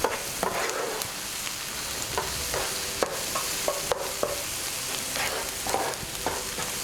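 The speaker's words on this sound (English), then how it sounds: "we add some onion we previously chopped" Chopped onion fries in hot oil for a Channa Masala, giving a loud, dense, steady sizzle up close, with occasional light spoon taps and scrapes.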